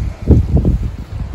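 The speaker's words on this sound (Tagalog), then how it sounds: "Ayun lakas naman ang hangin" Strong wind buffets a nearby microphone in a vegetable garden in low, rumbling gusts, a continuous rough roar that rises and falls over the clip.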